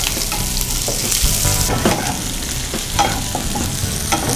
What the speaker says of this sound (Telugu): సో ఇది మంచిగా సాటే చేయాలండి